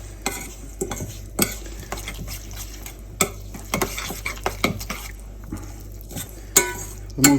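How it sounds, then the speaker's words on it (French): Raw salmon tartare is mixed in a bowl, with wet squelching stirs and repeated light clicks of a utensil against the dish in an uneven rhythm, close by. "et on met le poisson de côté pour mieux voir et on mélange bien"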